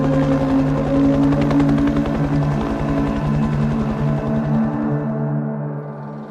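An attack helicopter thumps loudly with fast, regular rotor beats and a droning engine hum, holding close and strong before the sound thins and fades slightly toward the end.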